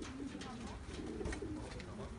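Racing pigeons arrive at a loft in Cape Coral during a 250-mile race, with soft cooing over a steady outdoor hum and muffled voices in the background.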